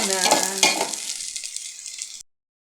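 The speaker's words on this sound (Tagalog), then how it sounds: "Ay magigisa na ako mga idol." Fried fish sautéing in a pan with egg and malunggay leaves, a loud close sizzle with stirring scrapes that fades over about two seconds, then cuts off.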